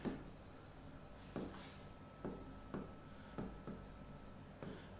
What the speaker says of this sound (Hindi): लो मैं यहाँ पे एक एग्जाम्पल लिख देता हूं